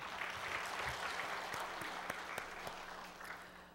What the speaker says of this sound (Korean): 우리 찬양 받으신 하나님께 박수를 드리겠습니다